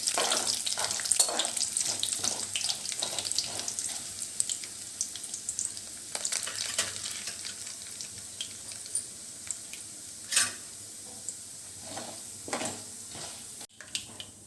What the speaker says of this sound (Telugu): ఇలా అన్నీ వేసేసుకున్నాక ఒకసారి బాగా కలుపుకుని ఫ్రై చేసుకోవాలి.